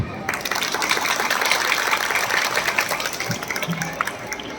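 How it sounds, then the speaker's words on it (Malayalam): A school anniversary-day audience claps together in a sustained burst of dense, steady applause, loud and continuous throughout, with a few voices mixed in. "എല്ലാവരും ഒന്ന് കൈയടിച്ചേ"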